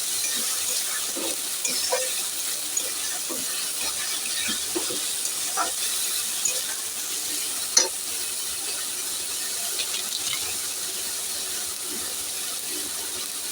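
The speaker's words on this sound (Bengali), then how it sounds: "দিয়ে ভালো করে মশলাটাকে একটু কষিয়ে নেব।" Spice paste with Kashmiri chili powder fries in a pan with a steady, close sizzle, while a spoon scrapes and stirs it in soft intermittent strokes and one sharper clack.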